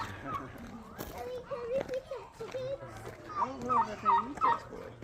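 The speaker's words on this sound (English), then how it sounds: "Look at the turkey." Turkeys at a petting farm, being fed corn, gobble in a quick run of short bursts toward the end, mixed with children's chatter and adult talk.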